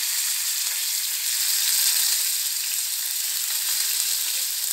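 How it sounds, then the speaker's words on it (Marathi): Curry leaves and mustard seeds sizzle in hot oil with a little cumin for a chaitra Navratri vatli dal, a dense, even, close crackle held throughout with no talk. "ह्याच्यात कढीपत्त्याची पानंही टाकून घ्यायची आहेत"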